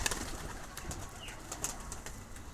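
Pigeons moving about on the ground among scattered salt, with faint soft cooing and light rustling steps, a few brief higher chirps and flutters over steady outdoor background noise.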